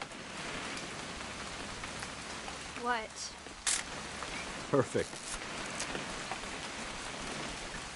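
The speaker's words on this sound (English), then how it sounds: "It's gonna rain the whole weekend, isn't it?" Steady rain falls throughout a scene in the video game What Remains of Edith Finch, a constant soft hiss with brief voices speaking over it.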